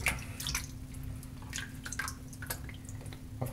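Hands are rinsed under a running tap, giving a faint, close, uneven trickle with scattered splashes and drips against a low steady hum.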